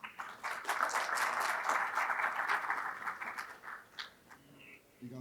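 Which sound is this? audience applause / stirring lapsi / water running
audience applause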